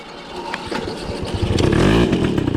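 Motoconfort AV10 moped fitted with a GENCOD exhaust, started cold, its small two-stroke engine catching after a few clattering turns and building into a rising, buzzing rev close by.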